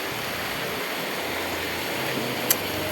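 Heavy rain pours steadily in Bangalore, a dense, even wash of noise close by with no pause, and one brief sharp tick near the end.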